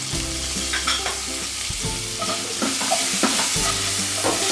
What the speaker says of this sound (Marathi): टोमॅटो मऊ होईपर्यंत आपण परतून घेणार आहोत गॅस आपला मिडियम आहे